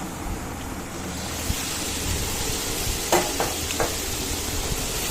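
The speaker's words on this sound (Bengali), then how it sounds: "ভাতটাও এক হাতে লাড়া দিচ্ছি, আরেক হাতে ক্যামেরা ধরে রেখেছি" Rice being stirred in a pot while food fries: a steady, dense sizzling hiss with scraping stir strokes and a few sharp clinks of the utensil, close and continuous with no talking.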